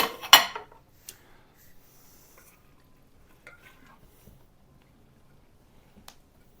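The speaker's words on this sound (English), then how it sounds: "we're going to take out the weights that were kind of holding the kimchi down" Weights being lifted out of a vessel of fermenting kimchi: one sharp clack at the start, then sparse faint knocks and small clinks in a quiet room.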